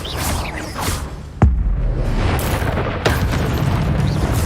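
A Confringo blasting spell goes off in the Hogwarts Legacy video game, a loud booming explosion with a sharp crack followed by rumbling, after a whooshing cast and amid other spell effects.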